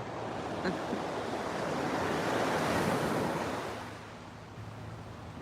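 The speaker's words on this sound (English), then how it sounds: "This is the beautiful Atlantic Ocean on the Florida coastline." Atlantic Ocean surf rolling onto the Florida coast in the morning, a steady loud wash of breaking waves that swells to a peak midway and then eases off, with some wind rumble and no voices.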